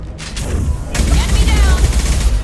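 Shotgun blasts from a firefight in the video game Mass Effect 2, a loud burst of booming shots with a chaotic roll of combat noise following, with speech mixed in.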